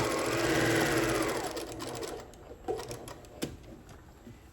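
A sewing machine runs stitching through the tree-trunk section of a fabric reversible Christmas tree gift bag: a steady close whirring hum that slows into a few sharp, separate clicks and taps.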